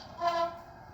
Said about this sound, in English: F3, short whistle.